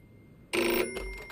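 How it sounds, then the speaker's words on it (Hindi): An old-style telephone bell in Far Cry 6 starts ringing suddenly, a single loud, bright burst that trails off quickly. "घंटी पर घंटी."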